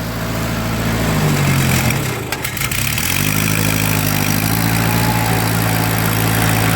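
Ford 9N/2N/8N tractor engine chugging steadily in second gear, a loud, close, low-pitched running note that dips briefly before settling back into an even rumble.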